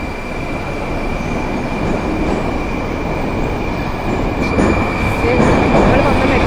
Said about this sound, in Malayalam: നമ്മൾ വന്ന മെട്രോ പോയി